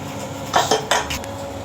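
A metal lid clatters shut on a boiling chicken biryani pot, making a few quick clanks and rattles of metal on metal, close and distinct over a low background hum.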